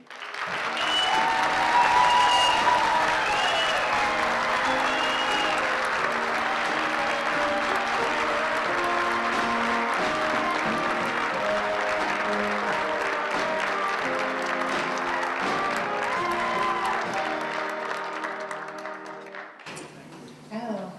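A hall of fame audience at the Brockville and Area Music and Performing Arts Hall of Fame 2018 gives long, steady applause for inductees. Dense clapping from a crowd fills the room, then fades out near the end.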